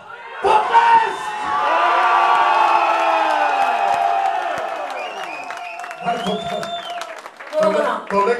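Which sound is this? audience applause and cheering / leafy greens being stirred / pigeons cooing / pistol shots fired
audience applause and cheering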